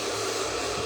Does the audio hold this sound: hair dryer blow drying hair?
yes